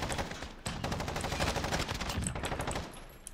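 Rapid gunfire from a sniper setup in Modern Warfare, a fast run of sharp, evenly spaced shots at moderate loudness that fills the whole moment.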